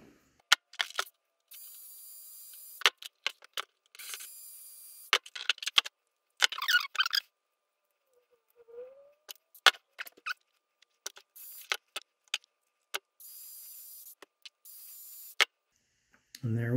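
Small metallic clicks, scrapes and handling noises come from a pickup ring being moved from an old PRS guitar pickup to a new one, in short irregular bursts separated by near silence.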